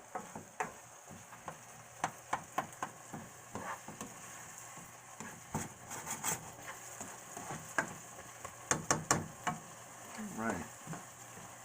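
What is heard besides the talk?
onions and garlic frying in a pan for shrimp risotto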